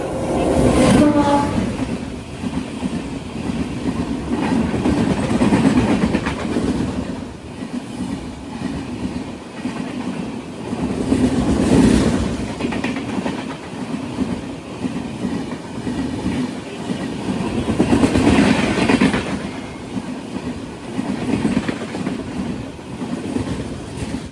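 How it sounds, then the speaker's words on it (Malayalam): The Matsyagandha Express rolls into Madgaon station in Goa, its loud rumble and clickety-clack of wheels rising and falling in waves over the length of the pass. "ട്രെയിൻ ഇതാ ഗോവയിലെ മഡ്ഗാവ് റെയിൽവേ സ്റ്റേഷനിലേക്ക് എത്തുകയാണ്."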